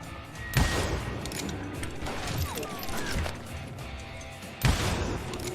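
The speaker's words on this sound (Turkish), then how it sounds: "Ben kimden mermi yiyorum şu an?" Gunfire in the Western shooter game Call of Juarez: Gunslinger, with two sharp loud shots standing out over a dense, clattering battle din and scattered mechanical noise.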